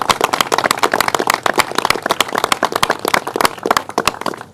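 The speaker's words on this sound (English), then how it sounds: "Let's give him a round of applause and thank him" A crowd at a Staten Island public event claps loudly and briskly, with sharp, rapid hand claps close by that ring out steadily for several seconds before thinning slightly at the end.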